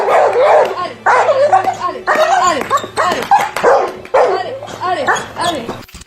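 A dog named Curtis barks in repeated short bursts, close and loud, with a low steady hum running underneath.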